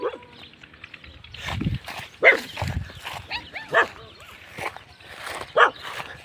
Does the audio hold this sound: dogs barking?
yes